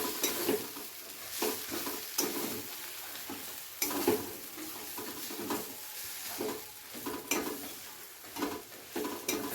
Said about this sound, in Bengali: মশলাটাকে দিয়ে আবারও একবার ভালো করে নেড়ে চেড়ে ফাইনালি আমি এবারে বাঁধাকপিটাকে নামিয়ে নেব